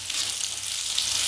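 Plantain shallow frying in a little oil, giving a steady, close hiss of sizzling with faint stirring, continuous and even throughout with no talk.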